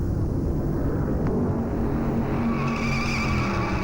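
Race cars roaring around the Darlington Southern 500 track, a loud, dense engine drone that stays steady throughout, with a rising whine near the end.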